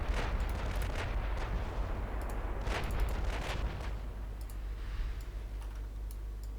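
Naval big guns firing shells in a 1956-era naval warfare video game, a steady run of booming shots and sharp cracks over a constant low rumble, with faint clicking throughout.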